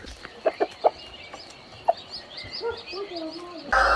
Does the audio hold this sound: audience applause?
no